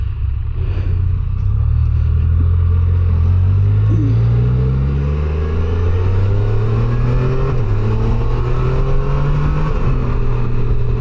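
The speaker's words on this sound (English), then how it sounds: "it sounds kind of like a super bike or something a little bit. Maybe like Triumph." A 2025 Can-Am Canyon three-wheeler accelerating on the road, its engine loud and close, rising in pitch through the gears with brief dips at each shift over a rumbling wind-buffeted background.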